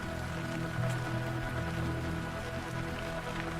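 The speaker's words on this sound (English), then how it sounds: "It's raining in the desert." Steady rain falling in the desert, a dense, even patter on surfaces that holds at a constant moderate level throughout with no voices.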